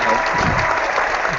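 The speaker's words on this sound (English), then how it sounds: "Cheering." A classroom group cheering and clapping to welcome a returning teacher, a dense, loud burst of applause with excited voices throughout.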